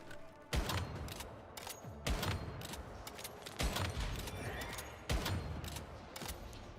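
Light machine gun bursts in the Once Human survival shooter, four heavy salvos spaced about a second and a half apart, each opening with a sharp crack and trailing into rattling fire, with no voices.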